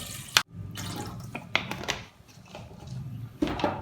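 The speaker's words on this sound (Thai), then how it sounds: "ขั้นแรกคือเอาน้ำใส่หม้อครับ" Water poured into a cooking pot while preparing Thai tilapia soup, heard as faint, uneven splashing and trickling with a few sharp clinks and knocks.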